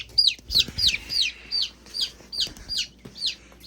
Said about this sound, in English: There should be 10 of them in there, but we've got little Silky here who just decided to flew the coop